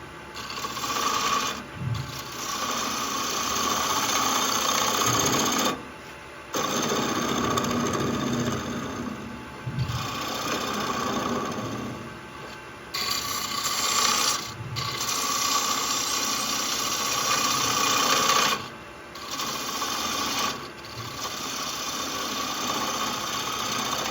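A chisel cutting wood on a lathe while a segmented bowl is turned, giving a loud continuous rasping scrape broken by short pauses as the tool lifts off.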